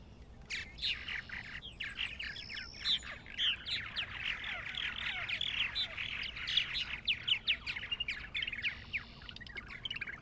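Purple martins calling around a nest site on a farm, a dense chorus of chirps, warbles and squawks from several birds, close and steady throughout with no talking.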